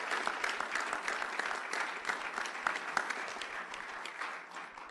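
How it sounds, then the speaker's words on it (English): Applause from a town board meeting audience, a steady round of clapping at moderate distance lasting throughout, with dense overlapping claps and no talk. "Come on up, a fitting round of applause."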